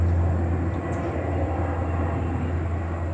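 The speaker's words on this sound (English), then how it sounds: "Airplanes." An airplane passing overhead gives a steady, fairly loud low drone with a broad rumbling roar that holds evenly throughout, with no speech.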